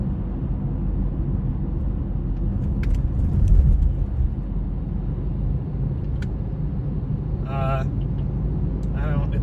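Steady low rumble of a car driving along a road, constant engine and road noise throughout, with occasional faint voices over it.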